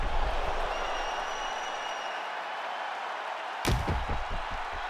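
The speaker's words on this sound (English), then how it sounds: "So the crowd voicing its appreciation after that round" Arena crowd in the UFC 5 video game applauding after a round, a steady broadband wash of clapping and crowd noise with a sharper burst of claps late in the clip.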